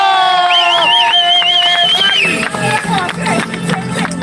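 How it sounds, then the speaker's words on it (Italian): A loud street crowd cheers and claps for a Ghostbusters street performance. A strong voice wails melodically over the first two seconds before the clapping and shouting take over close by. "Applauso!"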